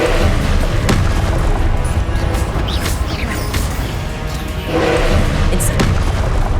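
Repeated casts of the Incendio fire spell in the video game Hogwarts Legacy make a loud, continuous roar of booming flame bursts, with sharper flaring whooshes around the middle and again later.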